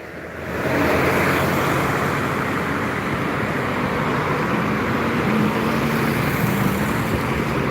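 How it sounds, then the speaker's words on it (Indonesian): A Putra Pelangi SR2 coach bus with Laksana bodywork, headed for Java, rolls past on the road with a loud, steady engine and tyre roar that swells in and holds, with no talk. "Ada satu unit bus yang menuju Pulau Jawa."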